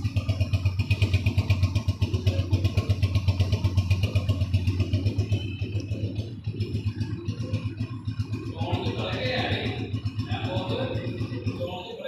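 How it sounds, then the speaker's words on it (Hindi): A 2024 Honda CG 125 motorcycle idles nearby with a rapid, even mechanical chugging and some clatter, briefly dipping midway before continuing; no one speaks. "ये इंजन का साउंड आपने देख लिया होगा।"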